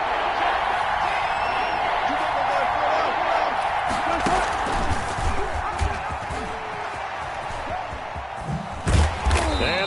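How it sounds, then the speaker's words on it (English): Crowd noise from a football video game, a steady loud roar filling the stadium throughout, with scattered cheers and shouts rising over it and a few thuds near the end. "the crowd getting into it as we come up on a big 3rd down"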